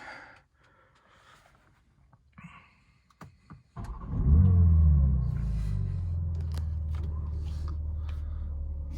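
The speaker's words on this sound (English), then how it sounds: "Let's try to start this engine up" A 2021 BMW G80 M3 Competition starts up after a few faint clicks and button presses in a quiet cabin: the engine barks loudly into life, then drops to a steady, deep idle rumble that continues to the end.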